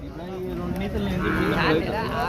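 A cow lets out a long, low moo that rises and wavers, fairly close, against the busy background of a cattle market in Pebbair.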